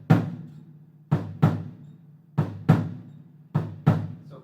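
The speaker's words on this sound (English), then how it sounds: "This next bass drum variation that we have is the heartbeat rhythm." Bass drum on a drum set beating a heartbeat rhythm for a calypso groove: paired low thumps, long-short, repeating three times, played alone, close and clear with no talking.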